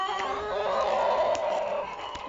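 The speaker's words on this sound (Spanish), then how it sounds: "Este es un pollito" A young rooster chick clucking and crowing in a gamecock pen, a steady close strained call held for about two seconds with no talk.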